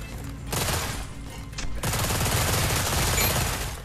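Gunfire in the VR shooter Espire 2, a dense continuous burst of loud automatic shots that pauses briefly and then resumes, close and sustained.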